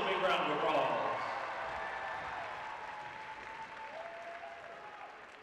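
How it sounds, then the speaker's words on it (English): Large arena crowd of fans applauding at a college gymnastics meet, a dense steady wash of clapping that starts loud and slowly tapers, with a faint voice underneath. "So let's give yourselves a big round of applause."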